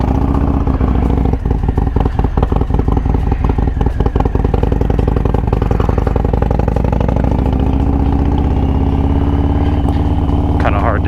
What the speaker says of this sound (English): Doing this test tonight with my 2020 Harley Davidson Lowrider S with the S&S 475 cam